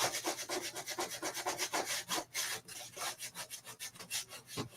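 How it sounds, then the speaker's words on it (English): Quick rhythmic scraping strokes of a burnishing tool rubbed over craft vinyl laid on its carrier sheet, a dozen or more brisk back-and-forth passes, close and fairly soft. "Get my burnishing tool."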